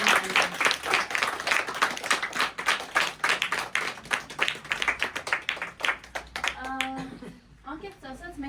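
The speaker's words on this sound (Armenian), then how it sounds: "Եկեք ծափահարենք մեր անմահ Թումանյանին։" An audience at a children's book celebration honouring the poet Hovhannes Tumanyan claps in a dense burst of applause for several seconds, which then thins out into a few scattered claps and voices.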